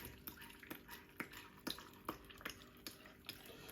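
Water poured into a container of June plum pulp for homemade Jamaican juice, quiet irregular splashes and drips repeating throughout, soft and close.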